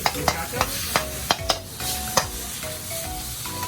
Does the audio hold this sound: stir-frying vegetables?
yes